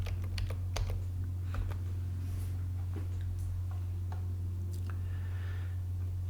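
Quick computer keyboard typing gives a burst of close clicks that thins to scattered taps, heard over a strong steady electrical hum.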